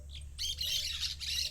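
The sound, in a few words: parakeet squawking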